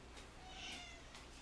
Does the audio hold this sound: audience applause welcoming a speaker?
no